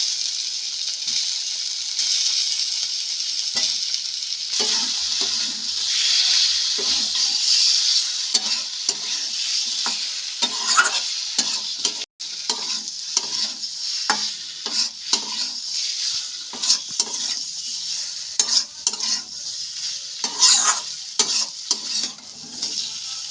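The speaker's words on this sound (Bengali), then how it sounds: "এখন এই কষানো মশলার মধ্যেই আমি ভাজা মাছগুলো দিয়ে দেবো" Fried desi magur catfish is stirred through thick, cooked-down spice paste in a pan, giving a steady loud sizzle broken by frequent scraping and clacking strokes of a spatula, with no talking.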